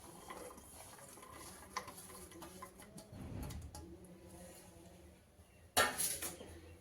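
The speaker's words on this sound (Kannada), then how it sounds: "ಇವಾಗ ನಾನೊಂದು ಕುಕ್ಕರ್ ತೊಗೊಂಡಿದ್ದೀನಿ, ಅದರಲ್ಲಿ ಈ ತರಕಾರಿಗಳನ್ನೆಲ್ಲ ಹಾಕೊಂಡ್ಬಿಡ್ತೀನಿ." Vegetables drop into a pressure cooker with a brief clatter after light metallic stirring and utensil clinks.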